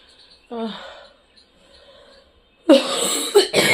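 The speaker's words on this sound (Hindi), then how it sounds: "खांसते खांसते मेरा जान निकल जाएगा।" A single harsh cough bursts out near the end, followed by another short cough, after a moment of a voice and quiet room noise.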